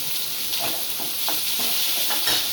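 Crushed garlic and onion fry in a hot pan with a steady, close sizzle and hiss, broken by a few soft stirring scrapes.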